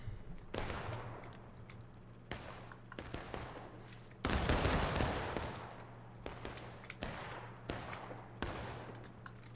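Musket volleys crack and boom in a video game battle, repeated loud shots at irregular intervals with one heavy massed volley midway, over a low steady drone.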